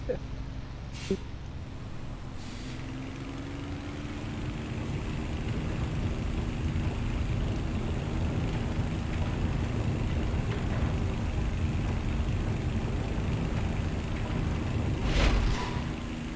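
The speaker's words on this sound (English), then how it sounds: "at the moment my engine sounds decidedly mono. It doesn't sound stereo." An aircraft engine in a combat flight simulator game such as DCS or War Thunder drones steadily at a moderate level, a continuous low rumble that swells slightly toward the end.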